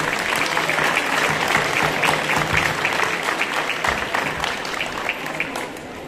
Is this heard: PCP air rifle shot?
no